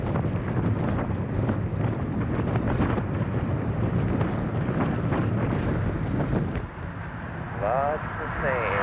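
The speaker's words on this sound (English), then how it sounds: "It's already mild to medium headwinds, and I expect it to just keep picking up." Wind blasts constantly across the microphone while a cyclist rides into a mild to medium headwind along the Pacific coast between Monterey and New Brighton, with a voice heard partly under the roar.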